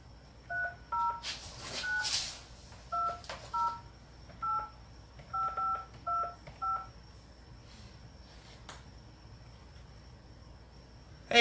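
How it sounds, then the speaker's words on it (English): A telephone keypad dials out a call, giving about a dozen short, clean beeps in uneven groups over quiet line hiss, then ending. "I might just give him a call and see if we can't get him on the phone here"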